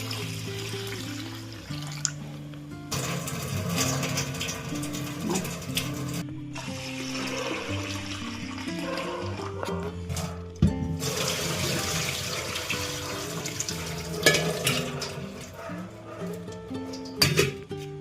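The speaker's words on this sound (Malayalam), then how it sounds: "നമുക്ക് ഈ വെള്ളം ഊറ്റിക്കളഞ്ഞ് 2 പ്രാവശ്യം തണുത്ത വെള്ളം ഉപയോഗിച്ച് കഴുകാം." Cooked vermicelli is drained and rinsed under cold running water in a kitchen sink, a steady splashing flow with brief pauses and a couple of louder knocks, while background music plays throughout.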